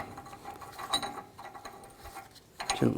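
Light metallic clicks and ratcheting as a hub nut is threaded onto the rear axle of a 1999–2007 Chevy Silverado 2500, with a few close taps and a louder clunk near the end; no talking.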